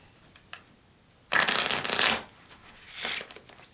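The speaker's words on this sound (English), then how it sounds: "riffle shuffle the cards." A deck of playing cards is riffle shuffled, two close crisp fluttering bursts about a second apart with a quiet pause between, no talk.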